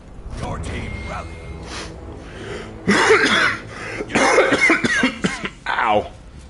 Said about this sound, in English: Coughing hurts my head.